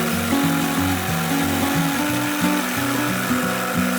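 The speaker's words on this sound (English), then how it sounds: "So here's Mikey cutting out some radiuses for these pieces" Power saw cutting radiuses into wooden boat-roof pieces, loud and close, its pitch stepping up and down in repeated short passes as the blade works through the wood, with no voices.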